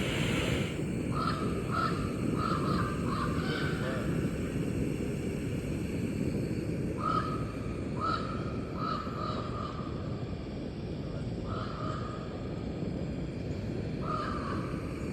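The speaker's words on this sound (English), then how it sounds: "What you're hearing is a very talkative raven." A raven calls repeatedly in short bursts of croaking notes at Rathtrevor Park campsite, pausing between groups, over a steady background rumble of wind or distant noise.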